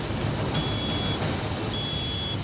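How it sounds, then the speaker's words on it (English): A truck's water temperature warning buzzer sounds while the truck climbs a hill in hot 39-degree weather with a trailer hooked on, giving two steady high-pitched tones over a constant engine drone. "and now it's set the water buzzer up."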